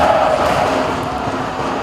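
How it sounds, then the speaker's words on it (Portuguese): A football crowd cheers during a Verdão match, a dense, steady roar of many voices filling the stadium from a distance, sustained without a break for the whole stretch. "E a torcida se anima mais uma vez."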